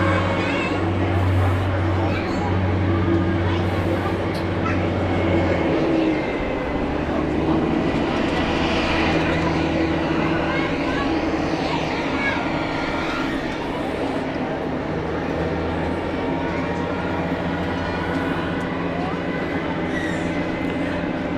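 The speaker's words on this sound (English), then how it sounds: "We've got an Airbus A321 heading out from Swiss," A Swiss Airbus A321 departs Zurich Airport for Lisbon, its jet engines giving a continuous, loud, broad roar heard from an observation deck. Background noise and a voice run beneath it.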